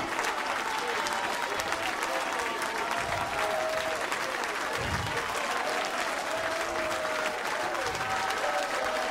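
Steady, dense applause from a large crowd, continuous and loud throughout, with faint voices mixed into the clapping.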